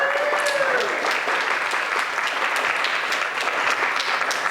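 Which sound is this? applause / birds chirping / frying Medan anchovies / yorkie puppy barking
applause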